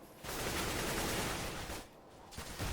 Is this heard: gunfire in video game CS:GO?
yes